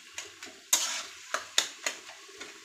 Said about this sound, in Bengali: এটাকে একটু নেড়ে চেড়ে দিতে হবে